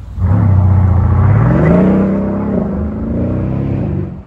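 A Mercedes-AMG SL63 twin-turbo V8 accelerates hard, its loud engine note climbing steadily and holding a strong, close roar for several seconds before easing slightly at the end. No one speaks.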